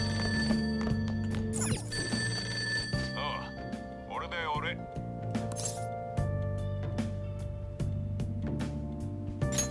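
A telephone rings in the Persona 5 Royal video game, repeated electronic ring tones over game music, with a person talking over it.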